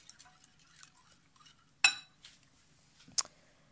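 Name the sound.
mixing the omelette preparation with utensils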